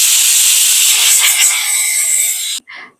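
A pressure cooker whistle blasts a loud, hissing jet of steam for about two and a half seconds, then cuts off sharply, followed by a short fainter puff.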